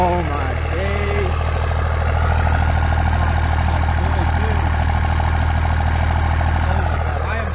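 An old truck engine, freshly cranked back to life, idles with a loud, steady low rumble that holds without a break, while people talk over it.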